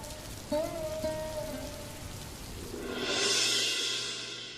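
Rain patters steadily on a surface, with a brief tonal sound early on and a rushing hiss swelling toward the end.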